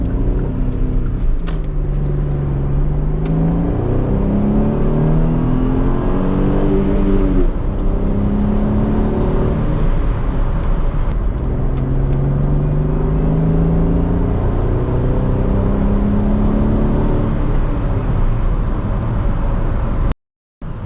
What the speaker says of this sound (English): So I will just show you in a couple of minutes the acceleration that the car has.